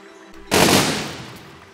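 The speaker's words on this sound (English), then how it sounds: "cannons that shoot in like every single direction" A single massive blast from cannons aimed in every direction on a Besiege contraption, bursting suddenly after a quiet hum and then decaying over about a second, loud and close.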